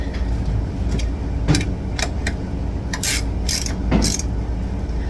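Bolts being tightened on Ironhead apehanger motorcycle handlebars, a series of sharp metallic clicks and ratcheting ticks spaced irregularly over steady low background noise.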